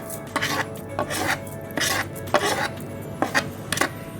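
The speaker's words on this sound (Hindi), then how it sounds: "अब मैं डालूँगी साबुत मसाले।" Whole spices dropped into a cooking pot of turnip mutton, giving several short clattering, rattling bursts in an uneven rhythm, close and moderately loud, with no talking.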